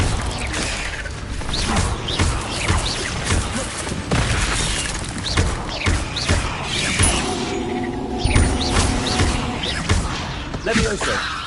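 Repeated Confringo fire-blast spells crackle and boom in the Hogwarts Legacy game, dense bursts of explosive impacts and whooshes following one another through a busy, loud stretch of game audio with a voice talking.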